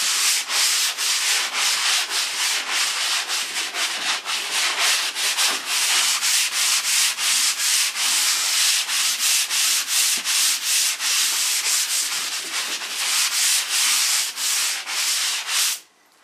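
Rapid back-and-forth scraping of sandpaper on a drywall patch, a steady rhythmic rasp that continues loudly before stopping abruptly at the end.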